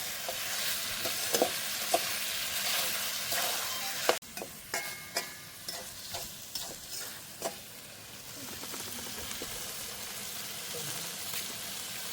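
Spice paste stirred into meat frying in a pan, a steady sizzle with a run of distinct scraping stirs and clinks partway through, close and moderately loud, no talking.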